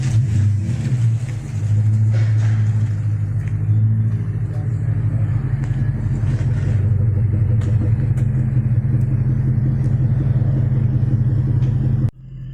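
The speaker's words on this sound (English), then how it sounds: "I just had the muffler fitted, and it's still, compared to my red one, it's still super quiet." A 2002 Jeep Grand Cherokee HO Overland, fitted with a new muffler and three catalytic converters, idles with a deep, steady exhaust rumble that swells slightly mid-clip, loud and close, before cutting off abruptly near the end.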